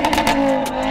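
Stage 2 tuned Audi RS3 five-cylinder engine with a Milltek exhaust, heard close and loud as a few sharp throttle blips burst over a throaty idle drone.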